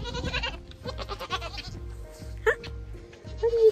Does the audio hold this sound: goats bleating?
yes